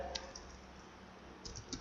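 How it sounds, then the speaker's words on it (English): A computer keyboard being typed on while entering HTML, a few quiet scattered key clicks in small clusters over faint room hiss. "I am typing HTML title tag here"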